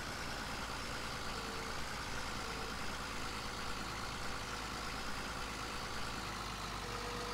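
A tractor engine in Farming Simulator 17 drones steadily during heavy loader work, a faint, even low rumble with no change in pitch and no talking.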